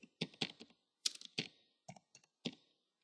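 Someone types on a computer keyboard while entering a link name in software, producing a few quick, close clicky keystrokes in short bursts separated by brief pauses.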